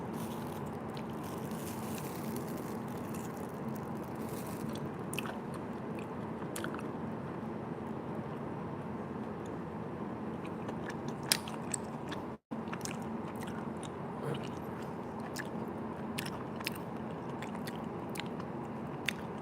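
Biting into a Jack&King's crispy sweet rice cake with a brown sugar syrup filling, its crisp shell and chewy centre giving a steady run of close, sharp crunches and chewing sounds with no talk.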